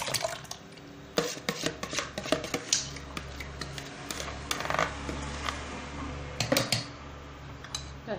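A metal cooking pot clanks down onto a stovetop while making Moroccan harira, with scattered sharp clatters and knocks of cookware over a low steady hum in a quiet kitchen.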